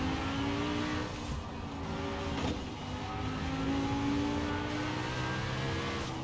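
Lamborghini Huracan Performante engine in Forza Horizon 4, a loud, close, sustained roar that rises and dips as it revs through the gears, without voices.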